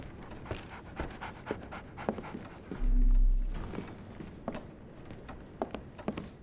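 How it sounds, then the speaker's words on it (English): A dog pants in the Sherlock Holmes: The Awakened video game, quick rhythmic breaths close by over a quiet ambient bed, with a brief low rumble partway through. "So, Barnes has a dog now."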